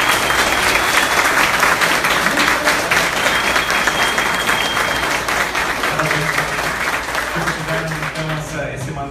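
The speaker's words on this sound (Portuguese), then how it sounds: "agora sim, uma salva de palmas para eles." Audience applause for lawyers at an event, a full, steady burst of clapping lasting several seconds with some voices mixed in beneath it.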